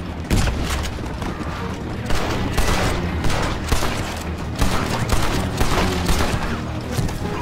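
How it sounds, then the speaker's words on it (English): Dense gunfire rages through a battle in the video game Red Dead Redemption, with overlapping shots, booming blasts and rapid volleys filling the whole stretch at steady high intensity. "Oh my god, there's so many bullets going off."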